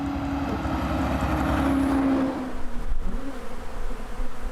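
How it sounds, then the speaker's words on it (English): A loud, dense buzzing of a large honeybee swarm spilled from hives after a transport truck mishap, steady and droning with a low hum, continuing without pause throughout. "Millions of bees spilled from their hives after the truck they were being transported on took"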